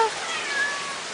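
A calico cat meows near the mic on a rainy day, a short cry over steady broadband rain hiss, with a faint voice in the background.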